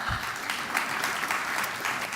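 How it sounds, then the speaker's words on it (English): Dense applause from a conference audience at a 5G technology event's opening ceremony, steady and fairly loud throughout, thanking a session moderator, with no talking over it. "round of applause to Lucas Silves for moderating"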